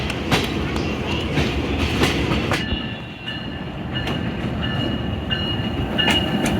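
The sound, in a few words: Khyber Mail train starting and moving on rails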